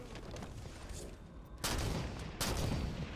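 Gunfire in the video game Halo 5 during online multiplayer, dense rattling bursts with two louder volleys, loud and continuous in a busy game mix.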